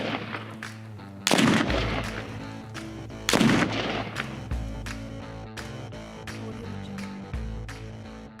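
Two loud, sharp .30-06 rifle shots fired with paper-patched loads using Varget powder, about two seconds apart, each followed by a ringing echo, with fainter distant gunfire popping throughout.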